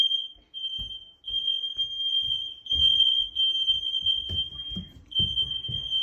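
Smoke alarms at a vacation home sound one steady, piercing high electronic tone that holds for the whole stretch, with brief gaps near the start and end, over scattered low thumps and rustling nearby.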